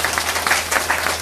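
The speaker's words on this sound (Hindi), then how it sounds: "इसलिए आप भी इनके लिए जोरदार ताली बजाते" An audience at a Bhagwat katha gathering applauds, a dense wash of many hands clapping steadily, loud and close throughout the brief moment.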